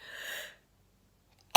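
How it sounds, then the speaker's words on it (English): A breathy intake trails into silence, then one short, sharp sneeze bursts out close by at the very end. "Sorry, I'm going to sneeze, guys."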